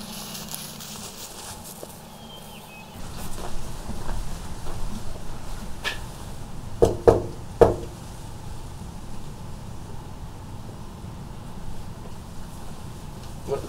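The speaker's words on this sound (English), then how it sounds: "Someone knocking at the door." Three sharp knocks on a door land in quick succession, close and fairly loud, over a steady low background hum.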